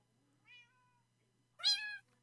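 A kitten in the Minecraft video game meows twice, a short soft mew followed by a louder, brighter meow a second later, alone over a faint steady hum.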